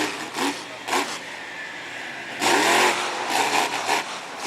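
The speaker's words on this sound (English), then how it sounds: "This truck, as well as the bus, running one of those big AMC Ford Performance engines" Monster truck with a big AMC Ford Performance engine driven by Matt Cody at an arena show, revving in sharp repeated bursts with a louder roaring surge midway, heard at some distance.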